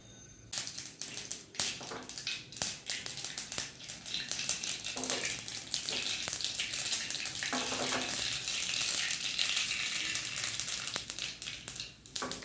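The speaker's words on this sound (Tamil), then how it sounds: "கடுகு, உளுத்தம்பருப்பு எல்லாம் போட்டு தாளிச்சிட்டாச்சு" Mustard seeds and urad dal tempering in hot oil for a South Indian dish, with a quiet steady sizzle broken by frequent sharp crackles and pops.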